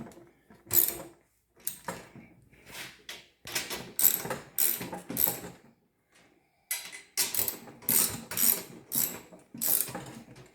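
A hand ratchet clicks in quick bursts while snugging small quarter-inch bolts on the grill of a Kubota mini dozer, the bursts separated by brief pauses and a longer gap midway, close and fairly quiet.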